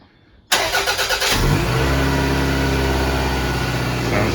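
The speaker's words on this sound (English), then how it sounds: "we're going to hear it start right now. Let's see if it runs better." A 1999 Toyota Camry engine, spark plugs regapped, cranks briefly then catches and settles into a loud, steady close-up idle with a slight rev as it starts.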